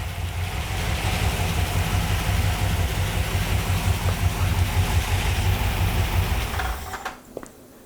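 A Ford Y-block V8 in a Thunderbird idles steadily with a low, even rumble close by for about seven seconds, then cuts off and leaves a quiet tail.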